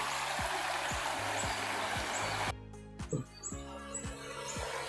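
A river flows steadily at a riverside spot, a constant broadband wash with birds chirping now and then, while a low rhythmic thumping runs beneath and the water noise drops partway through.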